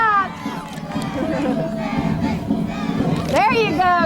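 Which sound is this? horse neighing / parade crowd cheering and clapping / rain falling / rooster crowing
parade crowd cheering and clapping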